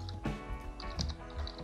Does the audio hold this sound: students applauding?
no